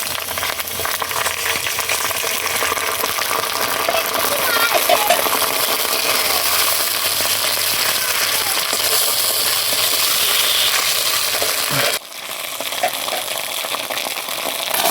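Green chilli, ginger and cumin paste frying in a pan, a steady loud sizzle that runs evenly and drops off abruptly near the end.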